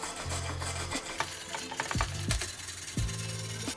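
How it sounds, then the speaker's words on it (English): Stiff brush scrubbing between the teeth of a table saw blade with a handled cleaner, giving close, rhythmic rasping strokes with ratcheting clicks and brief scraping bursts, no talk. "I'm just gonna come in here and I can just scrub in between, brush in between the teeth."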